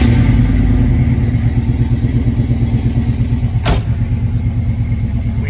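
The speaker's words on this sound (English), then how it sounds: "It's got a mild cam in it. Those RPMs shoot up pretty quick." 1967 Chevrolet Camaro with a 396 engine, tuned carburetor and mild cam, revving up close in a loud, even, throbbing idle-to-rev rumble with one sharp click partway through.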